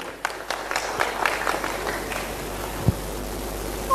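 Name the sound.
audience applause welcoming a speaker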